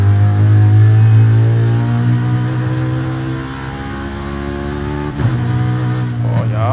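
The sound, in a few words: BMW M3 GTS E92 drifting in video game Forza Horizon 5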